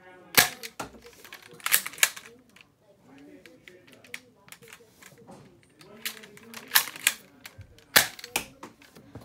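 A Nerf gun fires foam rounds in a series of sharp, close clicks and snaps, several spaced shots with quieter mechanical handling between them and a voice talking in places.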